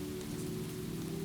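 Gentle rain falling steadily on surfaces in a forest grove, a dense, even hiss with a low continuous hum underneath, constant and unbroken.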